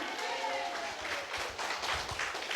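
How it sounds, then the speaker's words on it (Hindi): A church congregation at a Sunday service claps loudly and rhythmically, with many hands beating together in quick, even strokes across the whole stretch. "ताली बजाओ जोर से।"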